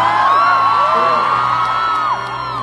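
A concert crowd in Budapest, Hungary, cheering and whooping loudly and continuously, many high voices yelling at once, close and dense throughout.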